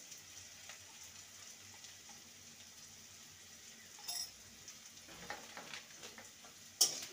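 Drumstick leaves and potato, seasoned with salt and turmeric, are stirred in a frying pan, giving a quiet, steady sizzle with occasional scrapes and clinks from the spatula.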